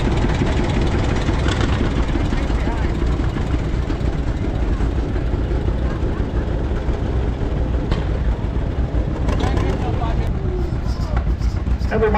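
A 1937 John Deere D tractor runs in a parade, giving a steady, loud low engine rumble that continues without a break, with faint voices in the background.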